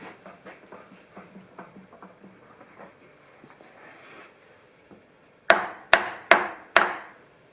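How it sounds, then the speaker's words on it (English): A hammer swung in a machining workshop gives a run of light, quick taps, a pause, then four loud, sharp ringing blows in steady rhythm close by. "A bit more room for swinging a hammer."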